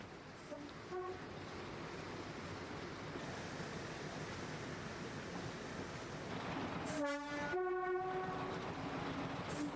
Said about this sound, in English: The train now approaches and crosses over the Avon at Broomhill Viaduct